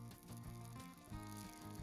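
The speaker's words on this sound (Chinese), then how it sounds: "油热之后，我们把韭菜盒子放进去" Chive pockets frying in a shallow layer of hot oil in a pan, a steady close sizzle that carries on through the whole stretch with no voice over it.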